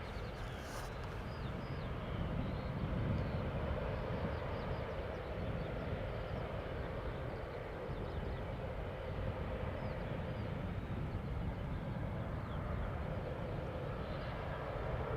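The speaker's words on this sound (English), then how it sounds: "the Aegean A321Neo landing on center" An Aegean Airbus A321neo landing on the centre runway at Amsterdam Schiphol in humid air, heard as a faint, distant, even rumble of jet engines that stays level throughout.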